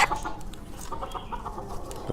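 A pet laying hen clucks in short, close, irregular bursts over a low background hum, with no talking.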